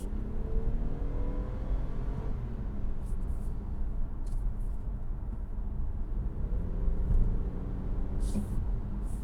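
A 2024 Toyota Camry XSE V6 pulls away under acceleration, heard from inside as a low, steady engine rumble and road drone with a faint climb in pitch.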